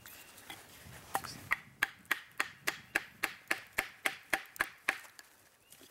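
A knife batoned into wood with a baton while carving a 7-notch: about fifteen sharp, evenly spaced knocks land close up, nearly one every third of a second.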